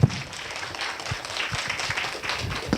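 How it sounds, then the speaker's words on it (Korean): Audience applause at a Korea University academic symposium marking the graduate school of education's 50th anniversary, a fairly quiet, steady patter of clapping from a seated crowd, with a few sharper claps standing out. "박수를 부탁드립니다."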